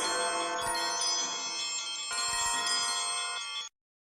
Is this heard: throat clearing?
no